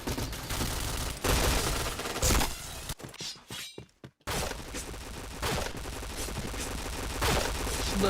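Dense automatic gunfire rattles through the Point Blank shooter game in loud sustained bursts, cutting out briefly to near silence before resuming just as heavily.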